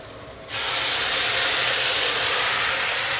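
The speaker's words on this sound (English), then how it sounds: "Now after it's stir fried for a little bit, I'm going to hit it with a little Shaoxing wine." Shaoxing wine hitting a hot wok of stir-fried velveted chicken: a sudden loud sizzling hiss bursts in and holds steady, close and alone with no talk.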